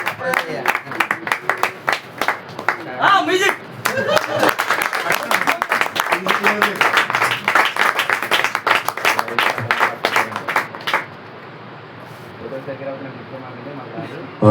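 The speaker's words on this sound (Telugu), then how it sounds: "ఫోటో ఫ్రేమ్ ఓపెన్ చేస్తుండగా మనం చప్పట్లు కొడదాం." An audience at a Bible college closing celebration claps continuously as a photo frame gift is opened, a dense, loud wash of many hands that thins out near the end.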